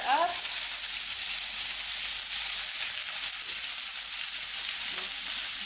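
Bacon sizzling and frying in a pan, a loud, dense, continuous hiss with faint scraping as it is stirred, holding steady throughout.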